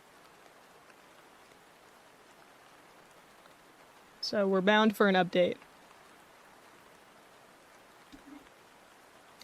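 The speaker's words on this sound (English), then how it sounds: "It's raining here too." Rain falls steadily outside as a soft, even hiss that continues throughout, with a brief stretch of someone talking over it.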